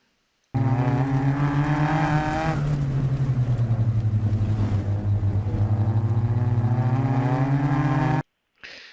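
A car powers down a straight on a wet autocross course in the rain, its engine a loud, steady, close drone whose pitch climbs and dips as the throttle is held, ending abruptly.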